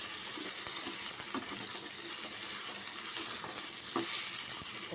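Vegetables for a carrot, drumstick and bottle gourd sambar sauté in a pan with a steady, fairly quiet sizzling hiss and faint scattered clicks throughout, no talking.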